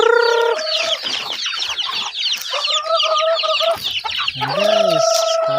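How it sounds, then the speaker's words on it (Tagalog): Many chickens cluck and squawk loudly at close range, a dense overlapping chorus of calls with sharp rising cackles throughout. "grabe mga manok dito. Ang dami guys, oh. Ang daming manok."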